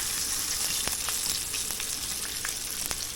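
A squirrel heart seasoned with lemon pepper sizzles and fries in a pan, a steady close hiss with faint crackles and a few sharp pops scattered throughout.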